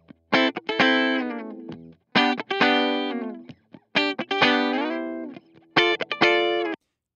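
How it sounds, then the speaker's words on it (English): Short clean electric guitar stabs through the clean channel of an Orange amp simulation plugin, played in four bursts of ringing chords with sustained tails and brief gaps between them. "We're going to start by hearing the clean channel with some really simple guitar stabs that I have a recording of."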